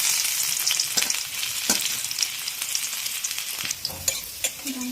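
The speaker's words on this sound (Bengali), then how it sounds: "এখানে তেলটা কিন্তু গরম হয়ে গেছে। আর সবার প্রথমে এতে আমরা দিয়ে দেবো রসুন," Chopped garlic hits hot oil in a pan for spicy puffed-rice snack, a dense close sizzle with sharp crackles and scattered spatula clinks across the whole stretch.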